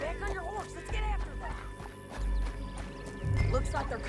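Hoofbeats of a horse ridden in the open-world western game Red Dead Redemption 2, a steady clopping gait with bursts of heavier low thumps, heard under game dialogue and musical score.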